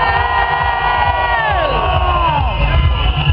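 Large festival crowd cheering, whooping and shouting at a dance music show, a loud continuous roar of many voices with rising whistles and yells through the whole stretch.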